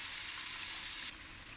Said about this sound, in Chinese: 沿周边淋入适量清水